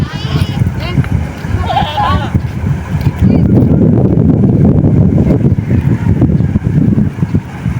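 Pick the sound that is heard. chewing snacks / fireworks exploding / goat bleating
goat bleating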